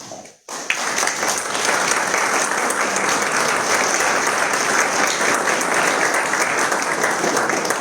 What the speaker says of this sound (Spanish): Les pediría a todos un aplauso para Domingo López Martínez.